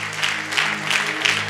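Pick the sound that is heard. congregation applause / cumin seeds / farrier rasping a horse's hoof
congregation applause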